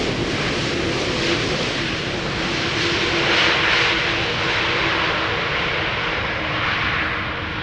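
An Airbus A330 jet at Schiphol Airport roars steadily on the runway, a loud, continuous broadband engine rush that holds its level throughout.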